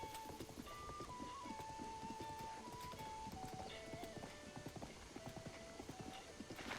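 Horse hooves clip-clop in a steady, even rhythm along a road in Zelda: Breath of the Wild, with a light melodic game soundtrack playing over the footfalls throughout.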